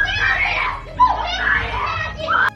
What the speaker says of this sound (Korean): 중국 여자들이 어떤 이유로 소리를 지르고 있습니다.